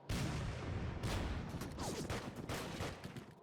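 Gunfire in the hex wargame Hex of Steel: a string of sharp shots and booming reports crack out one after another, fairly quiet overall, with a louder hit at the very end.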